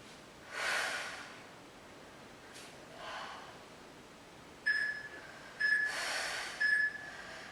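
Heavy breathing during a pilates exercise, a few loud breathy exhales and gasps spaced a second or so apart, close to the microphone, with faint beeps near the end.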